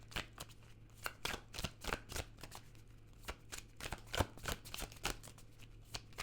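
Tarot cards are shuffled and pulled in quick, irregular riffles and slaps, each a crisp papery burst heard close and alone against a faint low hum.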